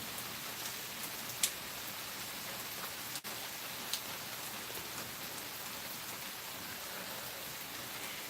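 Steady rain falling outdoors, an even soft hiss with a few sharp drips and taps standing out, no voices.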